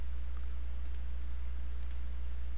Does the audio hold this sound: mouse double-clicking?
yes